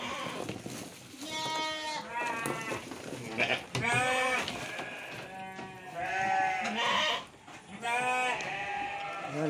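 Sheep bleat repeatedly and loudly at close range while being fed odot grass, several overlapping cries with wavering pitch following one another.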